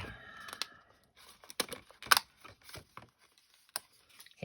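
Scissors snip through paper, cutting out a printed image for card making: a series of short, close, quiet cuts and rustles in an irregular rhythm, with near silence between them.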